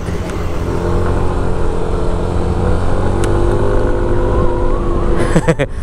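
A Yamaha NMAX turbo scooter fitted with a performance damper runs on a racing circuit, its engine droning loud and steady under wind roar, with a brief burst of other noise near the end.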